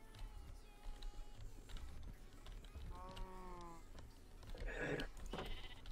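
Minecraft sheep bleat a couple of times over a busy background of keyboard clicking and game noise, with a louder, wavering bleat near the end.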